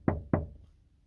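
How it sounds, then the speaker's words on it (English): Two sharp knocks on a door, close and distinct, spaced about a quarter second apart, followed by quiet room tone with no voices. "they hear a knock"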